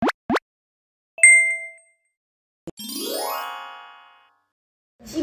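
Several bright notification-style dings and chimes ring out alone in separate bursts, followed by a rising shimmering jingle sweep and a short tail at the end.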